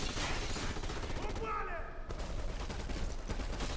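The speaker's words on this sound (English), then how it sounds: "It's literally just a crap ton of pulling triggers and letting ammo fly." Dense, continuous gunfire in the Xbox One X shooter Black, with rapid overlapping shots and blasts filling the whole stretch at a steady, loud level.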